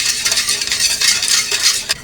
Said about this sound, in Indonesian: Dan ini kita aduk-aduk terus ya, jangan sampai ditinggal, tunggu sampai mendidih.